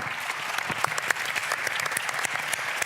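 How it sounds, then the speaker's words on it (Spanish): Conference audience at an industry session on industrial self-consumption energy applauding the participants, giving a full, continuous burst of clapping with scattered sharper claps standing out. "solo os pido un aplauso para todos ellos que nos han adornado esta sesión."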